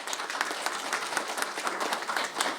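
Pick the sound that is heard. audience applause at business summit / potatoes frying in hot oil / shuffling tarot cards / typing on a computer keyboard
audience applause at business summit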